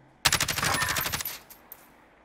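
A rapid burst of automatic gunfire in the Call of Duty Warzone video game, about a second of loud, tightly spaced shots that stop abruptly, followed by a faint tail and one distant crack.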